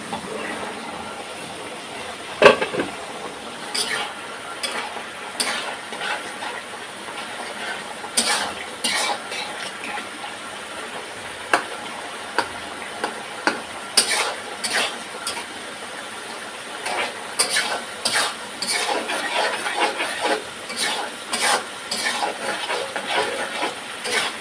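Fish roe with vegetables frying in a pan, with a steady soft sizzling hiss and repeated sharp scrapes and clinks of a utensil stirring against the pan, irregular and close.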